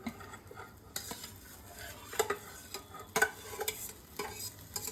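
Prawns fry in a pan at home late at night, a soft sizzle under repeated spatula stirring and metal clinks against the pan, fairly quiet and close, without speech.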